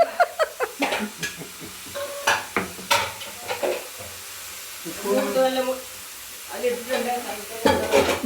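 Food sautéing in a pan as it is stirred, quick clattering scrapes and taps of a utensil over a low sizzle, close, with people talking in between.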